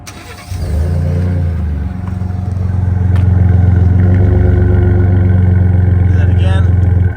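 A 2017 Ford F-150 Platinum EcoBoost pickup idles close by after its engine starts, a steady loud rumble from the engine and exhaust that holds evenly throughout.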